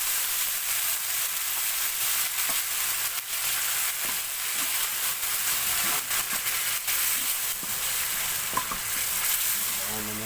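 Sardines fry and sizzle steadily in a pan for a Filipino dish of cassava leaves in coconut milk, a loud continuous crackling hiss with faint scraping stirs throughout.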